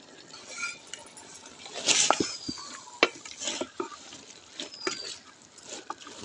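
Chaldar (elephant apple) pickle being stirred in a pan with fried spice mix and water, giving repeated scraping and clinking strokes with a light sizzle, close and fairly quiet, no talking.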